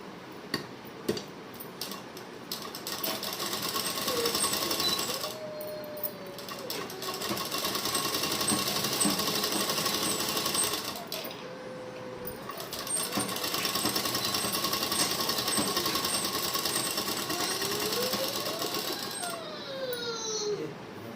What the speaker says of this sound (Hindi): इस तरह से मिला करके इसमें स्टिच लगा देंगे।